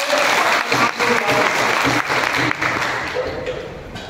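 Applause from an audience at a teachers' rights forum gathering, sustained and fairly loud dense clapping that carries on for about four seconds, with some voices murmuring underneath.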